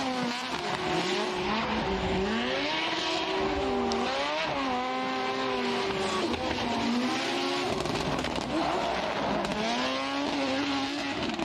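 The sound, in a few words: Nissan S15 drift car at Okayama circuit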